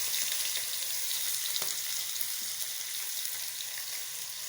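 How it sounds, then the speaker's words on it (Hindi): Potatoes fry in a pan with a continuous, fairly loud hiss and crackle. A faint scrape of stirring sounds partway through. "सबसे पहले आलू को अच्छी तरह फ्राई कर लेते हैं ताकि नरम हो जाएंगे"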